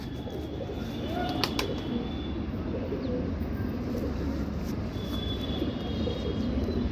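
Kaldoma pigeons coo softly among a busy low background rumble, with a couple of brief sharp chirps and thin tones now and then, fairly faint throughout.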